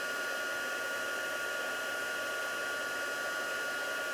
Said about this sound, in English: just a little bit of noise while I just heat emboss this